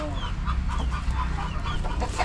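Chickens cluck softly in a group, scattered short calls over a low steady background rumble.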